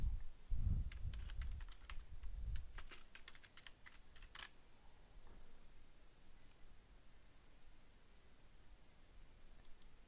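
Typing on a computer keyboard while filling in a text field, a quick burst of close, crisp key clicks early on with a few soft low thumps, then sparse clicks fading into quiet room noise.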